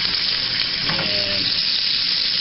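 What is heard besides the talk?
dove jalapeno poppers sizzling while frying in a pan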